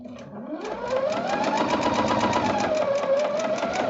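Sewing machine running steadily while stitching a flying geese quilt seam, a close, continuous mechanical whir with a rapid rhythmic needle clatter, rising in speed after a brief start and holding through to the end.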